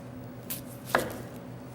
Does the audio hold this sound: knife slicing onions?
yes